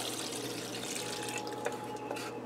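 Brown gravy mixed with cold water is poured over meatballs in a pan, giving a soft, continuous liquid pour with faint splashes and a few small clinks near the end, heard alone and quiet.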